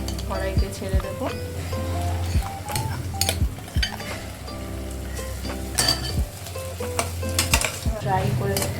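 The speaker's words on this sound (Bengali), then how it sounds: "ফ্রাই করে নিতে হবে।" Mashed potato filling for aloo paratha fries and sizzles in a kadai with a steady hiss, broken by repeated scrapes and clinks of a spatula stirring against the metal pan, close and fairly loud, with a voice talking over it.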